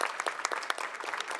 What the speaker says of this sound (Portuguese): nosso agradecimento e nossas palmas também a essa comissão